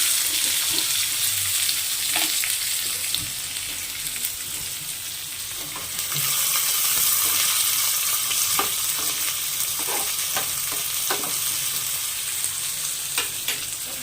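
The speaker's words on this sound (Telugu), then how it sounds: "పోపు వేగిన తర్వాత ఆనియన్ వేసేసుకున్నామండి." Onions fry in hot oil after tempering spices for a brinjal curd chutney, giving a loud, steady, close sizzle that runs the whole time, broken by scattered clicks and scrapes of stirring.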